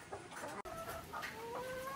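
Chickens cluck and murmur close by on a breeding farm, several birds overlapping in a steady stream of soft calls.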